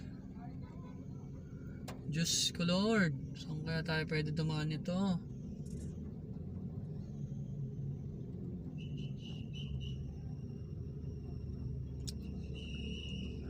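Road traffic crawling through typhoon flooding in Taguig City, a steady low rumble of idling and slow-moving vehicles throughout, with someone speaking loudly over it early on.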